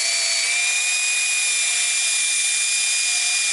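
Cordless drill fitted with a 3-inch rotary polishing backing pad on a mandrel, spinning in a steady, continuous high whine at close range without any pauses.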